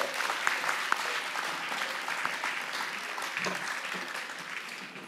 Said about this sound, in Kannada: ಒಂದು ಸತಿ ಜೋರಾದ ಚಪ್ಪಾಳೆ ಬರಬೇಕು